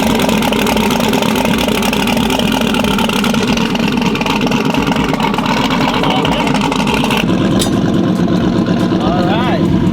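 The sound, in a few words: King Cobra car engine running after engine work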